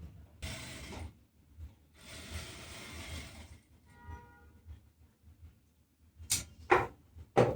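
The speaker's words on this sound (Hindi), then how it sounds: "अभी सिलाई लगा देते हैं और अभी हम इसको ऐसे सिलाई लगा के रेडी कर लेंगे" A sewing machine stitching a formal trouser pocket, running in two fast whirring bursts of about a second each, then faint mechanical ticks and a few sharp clicks near the end, close and without talk.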